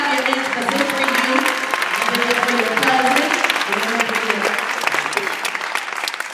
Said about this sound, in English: you should clap your hands for good for you